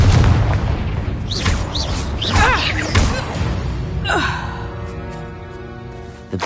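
A Confringo fire spell blast in the Hogwarts Legacy video game, a heavy booming explosion with whooshing bursts, followed by a fading ringing tail.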